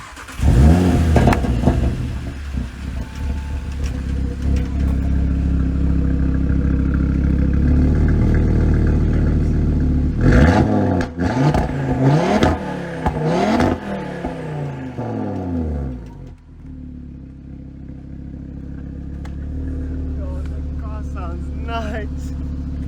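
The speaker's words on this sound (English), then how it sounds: "the car should now start" An Audi RS3 engine cranks and fires up, then settles into a loud, close idle and is revved several times in rising and falling sweeps before dropping back to a steady idle, with a voice heard over it.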